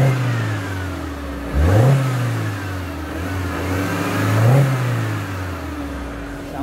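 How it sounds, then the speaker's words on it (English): A 2009 Mini Cooper 1.6 six-speed engine idles steadily and is revved twice, each rev rising sharply in pitch then settling back, close and loud. "I've got to rev the engine as well."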